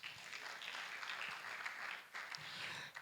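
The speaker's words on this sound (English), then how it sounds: "Can we give all of them a resounding applause, please?" A conference audience in Nigeria gives a round of applause for honorees, soft, steady clapping heard from a distance with a brief dip near the end.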